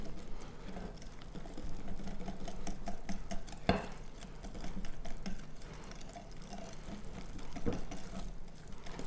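Lemon blueberry pancake batter is stirred in a bowl with steady wet scraping and swishing, moderately close and continuous, with a couple of sharper clinks of the utensil against the bowl.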